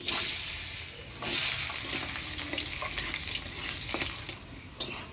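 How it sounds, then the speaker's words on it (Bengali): Potatoes stirred in hot oil tempered with whole cumin and dried chillies, a hissing fry that swells in bursts with intermittent clacks of the spatula, close and fairly loud. "ফোড়নের তেলে আলুগুলো নাড়াচাড়া করে নিলাম"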